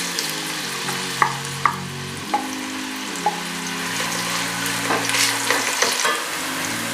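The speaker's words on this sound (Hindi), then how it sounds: "हमने आधा कप तेल डाला है और हम सबसे पहले प्याज फ्राई करेंगे।" Onions fry in about half a cup of oil for mutton liver, giving a steady close sizzle with occasional stirring clatters from a spoon in the pan. No one speaks.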